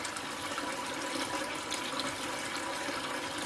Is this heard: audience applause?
no